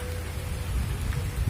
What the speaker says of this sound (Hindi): अभी थोड़ा थोड़ा बारिश हो रहा है